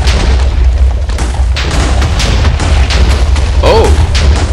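An explosion goes off in the Minecraft video game with the Thaumcraft 3 mod: a loud, sustained booming rumble with heavy low-end crackle that fills the moment and stays intense throughout.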